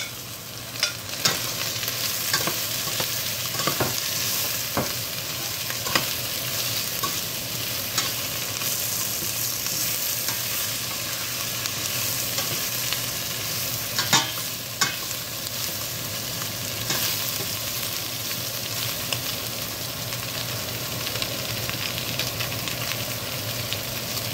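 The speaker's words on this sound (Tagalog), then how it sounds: "so now lalagay na natin ang ating roasted chicken." Roasted rotisserie chicken sizzles and fries in a pot with ginger as it is stirred, a steady crackling hiss broken by occasional scraping clinks of the utensil.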